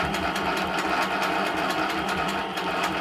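A long arm quilting machine stitching in the ditch between pieced seams gives a fast, steady mechanical chatter of needle strokes, close and even, running continuously without talk.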